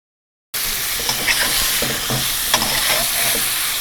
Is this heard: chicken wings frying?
yes